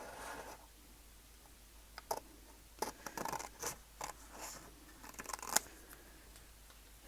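Scissors snip through a paper gift tag in a handful of quiet, crisp cuts with small rustles and scrapes of the card between them, close and faint.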